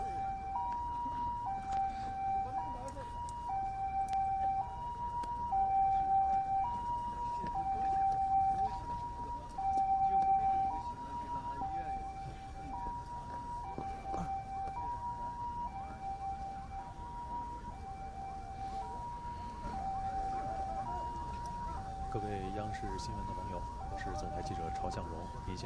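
An ambulance siren at a flooded coal mine rescue site in Xiaoyi wails in a steady two-tone alternating pattern throughout, moderately loud, while people talk in the background.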